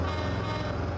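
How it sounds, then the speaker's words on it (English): A vehicle horn in the road-construction video game RoadCraft blares as one continuous, loud, low-pitched honk lasting about a second, with engine rumble underneath. "Honk honk."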